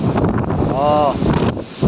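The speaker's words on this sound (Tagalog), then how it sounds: "So ayan yung klima natin no. Mahangin at medyo maalon." Strong wind buffets the microphone on a boat in the Indian Ocean over a steady roar of choppy open water, with a voice talking underneath the gusts.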